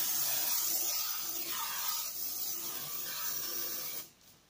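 A can of L'Oreal Men Expert Cool Power Ice Effect antiperspirant sprays a steady, close, breathy hiss for about four seconds, then stops suddenly into near silence.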